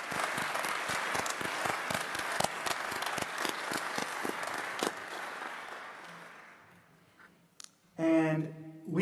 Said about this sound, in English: Can we give this staff a great applause?